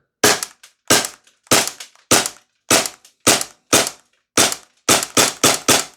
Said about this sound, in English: So here we go, the MP9 from Maruyama. We've got some semi-auto.